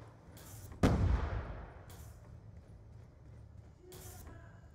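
A frag grenade explodes in Call of Duty Black Ops II multiplayer, one loud sudden boom with a rumbling tail that fades over a couple of seconds, with scattered faint game sounds around it.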